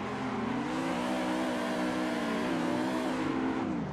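A car engine pulls steadily in second gear, a continuous mid-pitched drone whose tone climbs slightly and then eases off near the end. No voices are heard over it.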